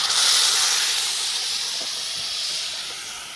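Water poured into a hot pan of fried fish gives a loud, steady steam hiss that starts strong and slowly tapers over a few seconds, with no voices.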